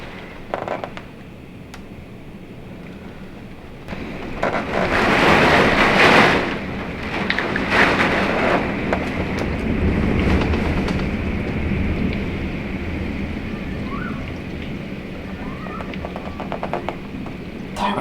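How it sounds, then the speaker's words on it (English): A big thunderstorm during Hurricane Ian at a Universal Orlando hotel brings a steady wash of rain, with deep thunder rumbling and swelling for several seconds mid-clip before easing back to a sustained roar. "we've got quite a big thunderstorm happening at the same time"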